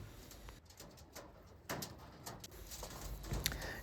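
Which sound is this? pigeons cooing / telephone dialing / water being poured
pigeons cooing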